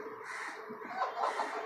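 Desi hens on a rooftop poultry farm cluck softly in a short, faint run of low, irregular calls with no talk.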